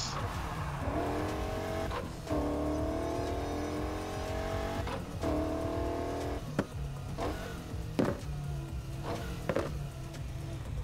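Car engine droning and revving in the racing video game Need for Speed Heat, with rising engine tones, gear shifts and sharp tyre squeals and skids recurring throughout, loud and close with no talking.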